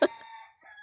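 Backyard chickens kept by a household in the Philippines: one sharp loud squawk followed by brief, fading clucks and a faint murmur, close and alone.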